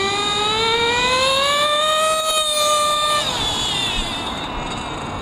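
A small Hyper 21 nitro engine revving up on the throttle, a loud high whine that climbs steadily in pitch, holds, then drops back as the throttle eases, with no voices.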